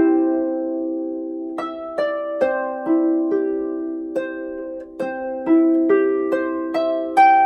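Harp playing the closing arpeggios of Raglan Road, clear plucked notes rising in short runs over sustained low strings, close and solo at moderate volume.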